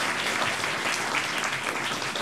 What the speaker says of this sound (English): Can we give a round of applause to all of our panelists